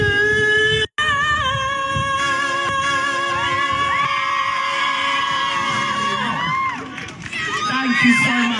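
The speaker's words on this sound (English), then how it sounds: "you hear the applause, you hear the people cheering" A large theatre crowd in Liverpool cheers, whoops and yells continuously, loud and lively, with a brief cut near the start and excitement swelling toward the end.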